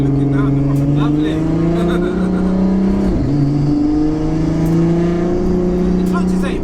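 A 900 bhp Audi A3 with a 3.2-litre turbocharged engine accelerating at part throttle from inside the car, a loud, steady droning engine note that climbs gradually in pitch, with a brief dip partway through.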